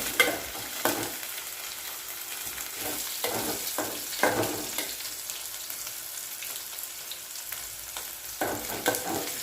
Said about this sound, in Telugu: ఇప్పుడు అదే ఆయిల్లో కడి చేసిన దొండకాయ ముక్కలు వేసుకోవాలి ఇవి వేగేంత వరకు కలుపుకోవాలి